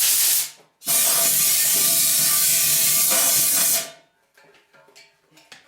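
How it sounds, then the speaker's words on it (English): Compressed air blasts through a Harley-Davidson X90 motorcycle gas tank during restoration, a loud sustained hiss in two bursts, a short one then a long roaring one, trailing off into quiet handling clatter. "After I blow this out with just kind of force the compressed air through it"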